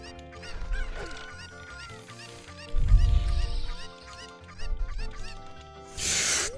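Chicken clucking and squawking from the Ocarina of Time randomizer, several bursts of bird calls over busy game music and effects, with a louder flurry near the middle and another at the end.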